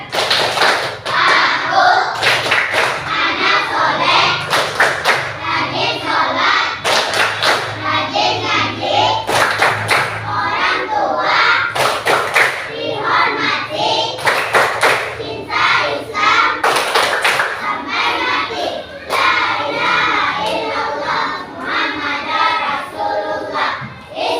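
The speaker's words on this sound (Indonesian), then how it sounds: "Tepuk anak soleh." Children in a classroom perform the rhythmic 'tepuk anak soleh' clapping routine, sharp claps in a patterned beat mixed with chanting voices, loud and close throughout.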